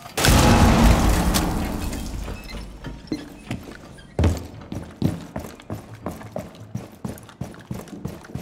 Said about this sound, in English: C4 deployed.